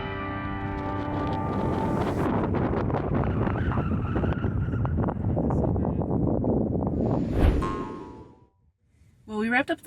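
Strong wind at about 12,000 feet in Colorado, at the Alpine Visitor Center, roaring and buffeting a nearby microphone in steady heavy gusts, then dying away abruptly near the end.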